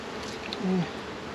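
Honey bees buzz around an opened hive box in a brief, faint drone with a slightly louder swell partway through.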